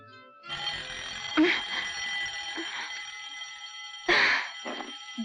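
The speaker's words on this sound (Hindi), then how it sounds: "सोने का अलार्म बज गया" Alarm clock ringing indoors, a sustained electronic ring that starts after a brief pause and runs continuously, with short bursts of other sounds or voices breaking in over it.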